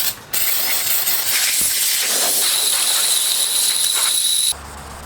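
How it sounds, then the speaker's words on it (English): Sandpaper scraping across a rusted axe head, a continuous loud hissing rasp with steady strokes, close up, cutting off abruptly near the end. "You want to sand 90 degrees to the previous grit scratches, and this is going to take quite a while."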